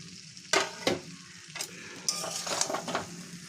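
Potatoes and cauliflower are stirred and sautéed in a pan, with a soft sizzle under several sharp scraping clatters of the spoon against the metal, close and fairly quiet.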